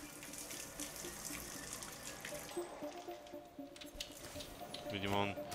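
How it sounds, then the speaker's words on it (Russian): Water runs from a tap inside the Hitman game, level Patient Zero in Hokkaido, a steady hiss carried under game sounds and music, with a voice talking over it. "тут смотри, вода бежит."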